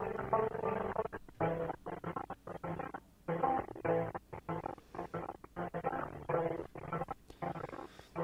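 A lossy, glitchy return track effect in a mix chops the music into stuttering fragments with abrupt dropouts and band-limited, muffled tone, moderately loud and alone.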